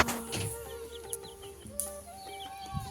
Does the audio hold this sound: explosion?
no